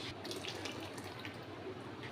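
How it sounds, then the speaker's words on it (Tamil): Water pours steadily into a mixer jar, a soft continuous gurgling splash, close but fairly quiet, with no voices. "மிக்சியில் கொஞ்சம் தண்ணி கலக்கி ஆட் பண்ணிக்கலாம்"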